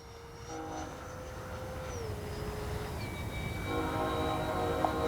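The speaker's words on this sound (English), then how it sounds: "definitely want to give her plenty of rollout to take off" Freewing 80mm MiG-21 RC jet spooling up for takeoff, a steady high-pitched turbine whine with tones sliding and shifting as power rises, then a broader roar building toward the end.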